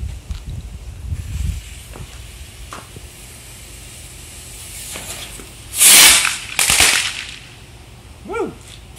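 Firework rockets going off outdoors: two sharp, hissing whooshes a moment apart, followed by fainter crackles and a short whistle, with some quiet background rumble before.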